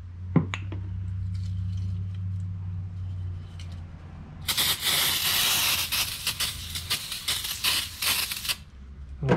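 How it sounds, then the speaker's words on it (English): Brake cleaner sprayed from an aerosol can onto the brake parts of a 1957 Chevy, a loud steady hiss broken into several bursts that runs through the second half, after a low hum and a few clicks. "A little brake clean on here."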